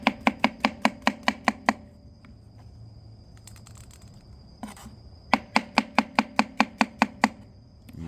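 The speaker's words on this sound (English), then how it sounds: "I'm just gonna slice these guys" A knife chops through washed baby bella mushrooms on a cutting board in quick, evenly spaced crisp taps, one burst of about eight, a short pause with soft handling, then a second similar burst.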